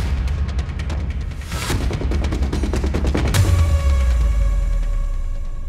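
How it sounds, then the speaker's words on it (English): Artemis I rocket liftoff: a dense crackling roar that thickens into a deep, sustained rumble, loud and continuous with no voices over it. "And liftoff of Artemis I."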